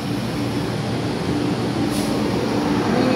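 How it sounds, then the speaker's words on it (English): Ambience at Tai Po train station in Hong Kong while waiting for a train: a continuous low rumble with a faint steady tone, fairly loud and unbroken, with no speech. "We are Taipo train station, waiting for the train."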